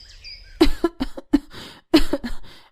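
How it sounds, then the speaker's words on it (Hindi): A burst of harsh, hacking coughs in quick clusters, loud and close, with brief pauses between fits. "कितनी खांसी आ रही है आपको?"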